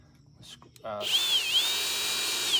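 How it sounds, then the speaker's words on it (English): A power drill boring a pilot hole into wood for screws in a Toyota Sienna camping conversion build; a loud steady whine with a wavering pitch starts after about a second and runs to the end, preceded by brief handling clicks. "the first thing I'm going to do, drill a pilot hole"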